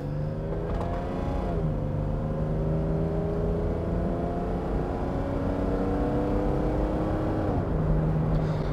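A second-generation Honda Passport SUV accelerating on the road, its engine note rising steadily through gear changes with a brief dip near the start and another shift near the end, heard loud and close from inside the cabin with no talking.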